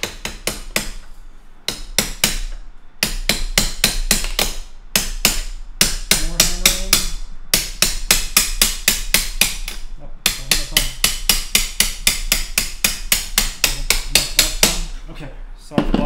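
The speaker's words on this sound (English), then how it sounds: "I had to hammer the other one out, so more hammering" Rapid, loud metal-on-metal hammering on a punch while swapping the tire on an Inmotion V11 electric unicycle, bursts of evenly spaced strikes repeated over and over close to the microphone with brief pauses between runs.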